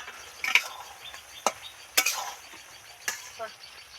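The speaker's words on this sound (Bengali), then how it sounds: "ভিতরে কেমন গুড়গুড় গুড়গুড় করে ফুটছে" A pot of snake gourd and poppy seed curry with potatoes bubbles as it boils, giving about five sharp, scattered pops and blips over a quiet, low simmer.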